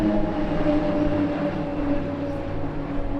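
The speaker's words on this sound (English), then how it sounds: "ladies and gentlemen, 8 aircraft now all together" Eight PC-7 turboprop aircraft fly together in formation at an airshow, producing a steady, broad engine drone with a faint hum above it and no talk.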